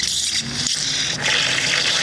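Water rushes steadily from an opened outdoor spigot beside an inground sprinkler system, a loud continuous hissing gush with a brief dip partway through.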